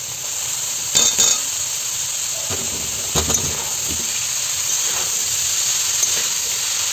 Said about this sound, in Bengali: এবার পুরো মাশরুমটা ডালে দিব।